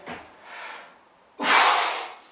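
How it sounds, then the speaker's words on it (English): Deep breath drawn in before a deadlift, a short sharp inhale followed by a long, loud, forceful rush of breath close to the microphone. "Deep breath in."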